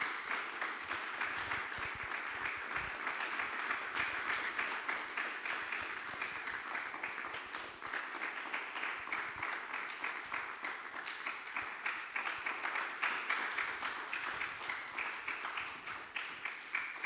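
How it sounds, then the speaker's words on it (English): An audience at a Catholic university talk applauds a speaker, a long, fairly distant and soft run of continuous clapping that keeps an even, steady patter for well over fifteen seconds. "Please, big applause."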